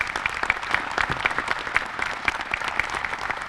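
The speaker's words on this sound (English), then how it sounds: "So I'd like to have a big round of applause for all the work that they do here" Steady, fairly close applause from a gathering at the Lance Camper expansion in Lancaster, many hands clapping in a dense patter with a few sharper claps, no talk over it.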